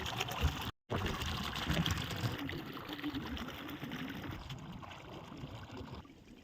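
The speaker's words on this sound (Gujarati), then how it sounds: "હમણાં તમને બતાવું પાણી 180 ફૂટે પાણી કેવું આવે" Water gushes from a 180-foot-deep borewell into a farm field, making a continuous rushing, splashing flow close by. A brief dropout occurs near the start, and no one speaks.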